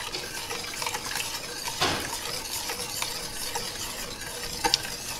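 A cornstarch and water mixture goes into a sizzling honey-orange sauce with sesame seeds for fried chicken wings; soft, close stirring and bubbling hiss at low volume, with a few small clinks of utensils against the pan.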